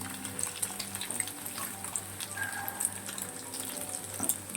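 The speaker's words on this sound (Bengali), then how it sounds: "এপিট ওপিট করে ভালো করে লাল লাল করে ভেজে তুলে নেব" Paneer cubes fry in hot oil with a steady, soft crackling sizzle throughout, joined by faint bubbling and occasional clinks, at moderate level with no talking.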